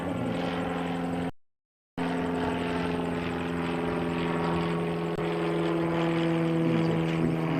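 A propeller airliner on flight 352 bound for Wellington drones steadily overhead, a loud sustained engine roar with strong tonal hum that is briefly cut out and then continues unbroken.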